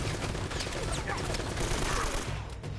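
A dense burst of gunfire in Uncharted, shots rattling in quick succession close and loud over a noisy battle backdrop, with no voices.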